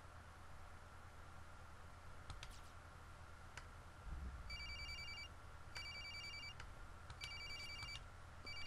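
A telephone rings in the horror video game Corpse Party: quiet electronic ring bursts repeat at a steady pace over a faint hiss, with a few soft clicks before the ringing begins.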